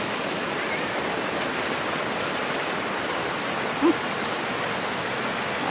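Overflowing drainage canal water rushes through a flooded village, a steady broadband wash of flowing water that holds at an even level with no voices.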